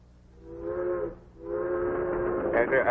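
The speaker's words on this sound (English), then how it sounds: "when you're riding along on a train this way" Old-time radio drama train sound effect: a steady rolling rumble with a sustained whistle-like tone sounding twice, the second longer, fairly loud and close with no voices over it.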